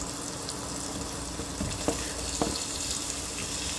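Garlic, ginger and onion sautéing in hot oil for ginataang tambakol give a soft, steady sizzle with a few faint stirring clicks, fairly quiet and close.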